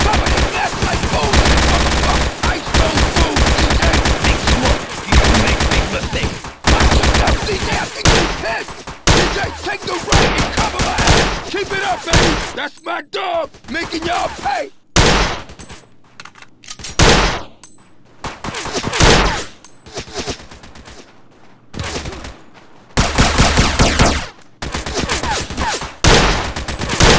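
Intense shootout in GTA San Andreas, with loud sustained machine-gun bursts and rapid gunfire filling the scene, broken by short pauses and separate volleys.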